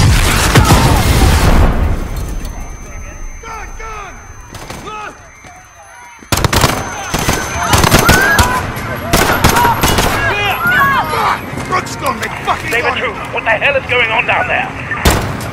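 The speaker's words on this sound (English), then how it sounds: "There's been a detonation at Piccadilly Circus." A detonation at Piccadilly Circus in Call of Duty: Modern Warfare, with a loud blast and cracking gunshots, then a quieter lull before a renewed burst of booming fire and scattered shots, with voices shouting throughout.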